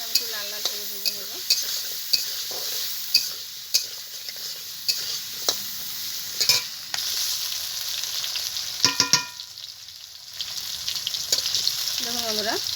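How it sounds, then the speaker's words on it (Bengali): Salted, turmeric-dusted potatoes fry in a pan with a continuous crackling sizzle, broken by regular scraping stirs of a utensil against the pan, close and alone. "এখন আলুটাকে আমি একটু লাল লাল করে ভেজে নেব।"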